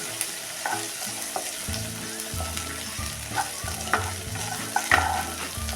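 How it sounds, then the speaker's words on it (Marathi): Soaked dried chillies fry in hot oil for a rice tempering, giving a steady close sizzle with repeated stirring scrapes and clinks of a spoon against the pan. "ह्यातला पाण्याचा चुरचुरपणा कमी होईपर्यंत परतूया"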